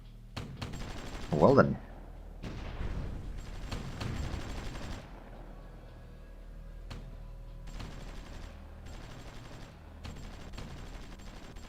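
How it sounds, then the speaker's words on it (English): British anti-tank guns firing into Luxembourg in Supreme Ruler Ultimate, a few dull distant booms spaced out over a low background, with a brief spoken remark early on. "it's the British anti-tank guns over here trying to fire into Luxembourg"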